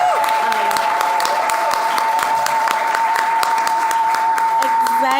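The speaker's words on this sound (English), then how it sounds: "resounding applause?" Loud, continuous audience applause at a climate awards ceremony, dense clapping from a crowd with occasional cheers and a steady tone running underneath throughout.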